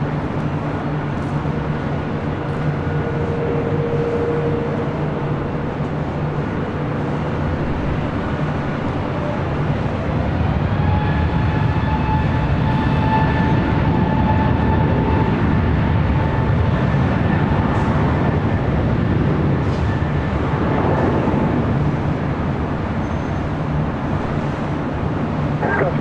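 A jet airliner taking off from runway 24 left at LAX: a loud, steady broadband roar with rising engine whine tones that build midway and hold, continuous throughout.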